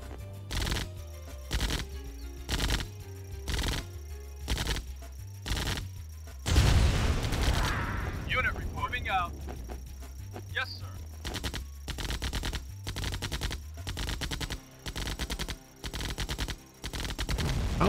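Units in Command & Conquer Remastered, a GDI campaign with gunboats against an Obelisk, fire steady rhythmic gunfire. A loud blast and short unit voice replies break in midway before the shooting resumes.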